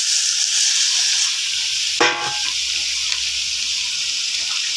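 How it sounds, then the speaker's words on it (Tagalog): Chopped bottle gourd (upo) dropped into a pan of sizzling sautéed pork, giving one sharp burst of hissing frying noise that settles into a steady sizzle close by, with no talk. "Ilagay na natin itong upo."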